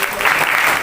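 Loud, dense applause from a church audience at an anniversary meeting, sustained clapping filling the whole moment with no pause.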